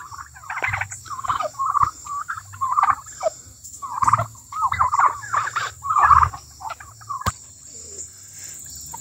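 Red Bourbon, Blue Slate and Royal Palm turkeys gobble in a yard, rapid rattling bursts repeating in a busy, overlapping chorus, fairly close and loud, with a steady high insect-like chirr underneath and no talking.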